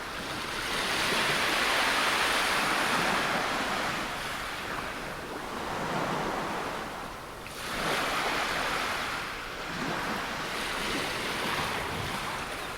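Ocean surf at Bondi Beach in Sydney, a steady broad wash of breaking waves that swells and eases in slow surges, close and loud, with some wind and no voices.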